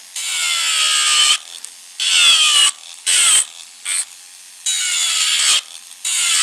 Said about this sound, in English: My e-file is going clockwise.